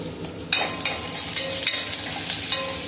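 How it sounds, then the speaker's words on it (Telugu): Turmeric and curry leaves hit hot oil in a pan for tamarind rasam, setting off a loud sudden sizzle that crackles on steadily with light stirring scrapes, close and with no one talking. "ఫ్రై అవుతున్న దాంట్లో కొంచెం పసుపు, కరివేపాకు కూడా వేసుకుని ఫ్రై చేసుకుందామండి"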